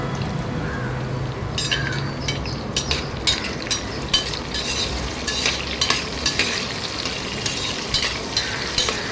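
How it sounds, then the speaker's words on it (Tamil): Sliced onions sauté in oil for chicken biryani, with a continuous sizzle broken by repeated scraping and clinking strokes of a spoon against the pan, growing busier partway through. "ஸ்லைஸாக கட் பண்ண வெங்காயத்தையும் சேர்த்து நல்லா ப்ரௌன் கலர் ஆகிற வரைக்கும் வதக்கிக்கலாம்"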